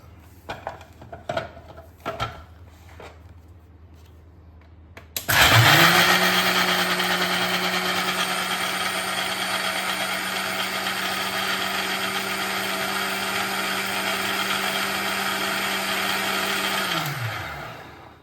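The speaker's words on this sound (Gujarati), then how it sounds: "હવે આપણે આ બધાને મિક્સરમાં મિક્સ કરી ક્રશ દઈશું." A few clatters and knocks, then a mixer grinder roars to life and blends raw mango mixture loudly and steadily for about twelve seconds before winding down.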